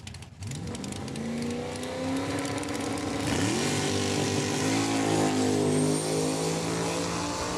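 A 1997 Chevy Cavalier and a 2002 Ford Mustang launch down a drag strip at Saskatchewan International Raceway, engines revving loudly and rising in pitch through the gears, sustained and close.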